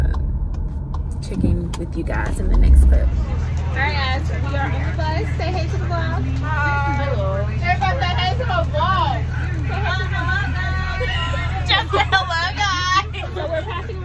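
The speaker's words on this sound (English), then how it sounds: "we are on the bus" Riding inside a moving bus, the engine hums low and steady while many passengers chatter all around, with close voices talking over the babble.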